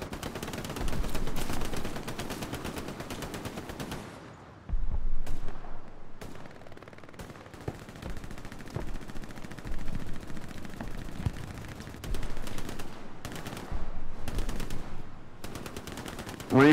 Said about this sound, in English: They got artillery on us, right on our outpost